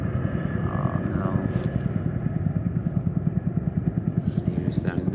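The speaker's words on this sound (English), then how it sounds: "the helicopter's still going round." A helicopter circles overhead at night above a mountain campsite, its rotor throbbing in a steady rapid beat that stays constant throughout, with a few faint higher noises over it.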